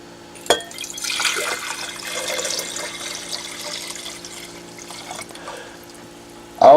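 Silver nitrate solution is poured into a 1000 ml glass beaker. A sharp clink starts a soft, continuous trickle that splashes and thins into a quiet stream, then ends with a brief louder knock.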